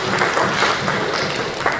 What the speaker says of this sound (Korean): 우리 찬양팀에도 오랜만에 우리 격려하는 박수 한번 보내드릴까요?